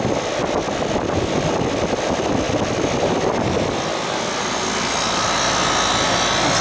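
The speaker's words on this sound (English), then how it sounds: "Compressor's running." An air conditioning compressor on a modified AC system runs steadily up close, a broad rumbling drone with wind buffeting on the microphone, settling into a smoother, even hum toward the end.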